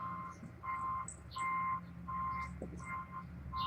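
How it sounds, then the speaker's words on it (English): A truck's reversing alarm beeps in a steady repeating rhythm, five or six tones at regular intervals over a low engine idle, somewhat distant. "there are always trucks backing down the road to get to their delivery area."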